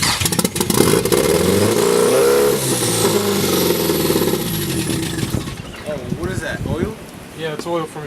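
A Nissan S15 with an SR20DET engine after a rebuilt starter install, cranking and catching loudly up close, then revving and settling to a rough idle as people talk nearby.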